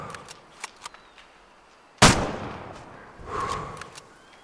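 A rifle shot in the hunting game Way of the Hunter cracks out as one loud, sharp blast with a long rolling echo, and a swelling rumble follows a second later. Faint clicks come before it.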